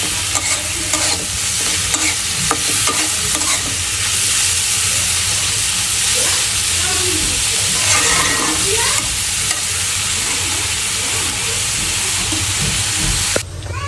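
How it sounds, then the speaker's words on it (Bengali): Vegetable bhaji with a little turmeric fries in a pan with a steady close sizzle while a utensil stirs it, scraping and rattling now and then, and a faint voice briefly surfaces beneath. "এখন করলাম ভাজি চড়াইলাম"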